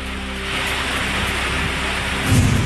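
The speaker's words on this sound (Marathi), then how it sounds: "नागपूर जिल्ह्यातील ग्रामीण भागात काल सायंकाळी मुसळधार पाऊस" Heavy evening rain pours down in rural Nagpur district during a thunderstorm with gusty wind, a dense steady hiss with a low rumble swelling near the end.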